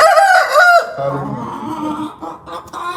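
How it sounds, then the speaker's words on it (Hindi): A hen about to lay an egg cackles loudly and repeatedly up close, a run of sharp, excited clucks and squawks with barnyard noise around it. "जब मुर्गी अंडे देने वाली होती है तो तब वो ऐसे करती है"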